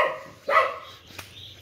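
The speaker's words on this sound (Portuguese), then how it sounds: "É um cachorro super protetor, inclusive." A protective dog gives a short bark-like yelp, then a fainter follow-up sound, close and alone, with a low hum underneath.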